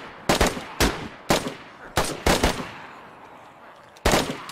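Gunfire in the DayZ video game, about eight loud, close shots fired in an uneven rhythm, some in quick pairs, with quiet gaps between them.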